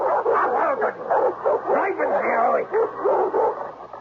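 Dogs bark and yip as a sound effect in a radio mystery drama, a series of rapid, loud, overlapping barks and whimpers that continue throughout in a close, boxy broadcast tone.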